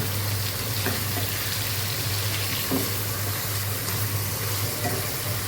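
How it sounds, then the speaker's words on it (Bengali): Eggplant and potato pieces sauté in a pan, giving a steady, close frying sizzle with a few soft stirring knocks throughout. "এই তো এখানে আমি বেগুন আলু কষিয়ে নিচ্ছি"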